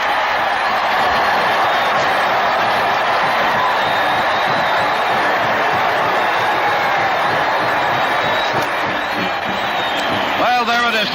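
A roaring stadium crowd of about 82,500 cheers after a successful kick at the 1954 Michigan at Ohio State college football game, a dense, loud, sustained wall of noise with scattered whoops throughout.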